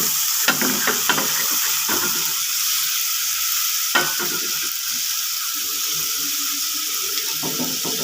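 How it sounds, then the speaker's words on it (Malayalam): Onions, chopped tomato and curry leaves fry in a pan for prawn theeyal while a spoon stirs them, with irregular scraping strokes over a steady close sizzle and a brief watery splash partway through. "ചേർത്ത് കൊടുത്തിട്ടുണ്ട് നന്നായി ഒന്ന് ഇളക്കി കൊടുക്കാം ഇത് നന്നായി ഒന്ന് വഴന്ന് വരട്ടെ"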